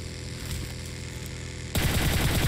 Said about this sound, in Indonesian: dia nembakin.